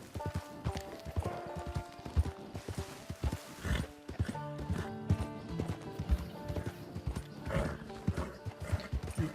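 A tired, weak horse in the online beta mode of Red Dead Redemption 2 clip-clops along with steady hoof beats, and there are occasional snorts and whinnies in the game's outdoor setting.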